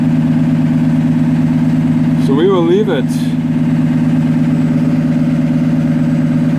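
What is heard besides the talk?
2015 Cummins ISB diesel engine idling during parked regen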